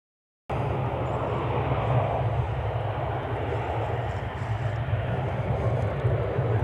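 An American Airlines Boeing 777-200ER jet on the runway at DFW airport gives a continuous broad engine roar, steady and fairly loud throughout.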